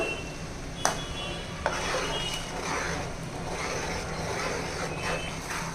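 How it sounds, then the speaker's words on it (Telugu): Ginger garlic paste frying for mutton pickle, a steady close sizzle with two sharp utensil knocks early on and a continuous stirring scrape, no voice over it. "ఇది బాగా ఎర్రగా వేగిపోవాలండి అల్లం వెల్లుల్లి పేస్టు"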